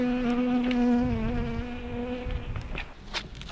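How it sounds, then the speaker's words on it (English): Wasps buzz loudly and close by inside a car cockpit, a strong whining drone that wavers and drops in pitch as one passes near, then thins out into fainter buzzing against light scuffing and clicks. "Bloody wasps."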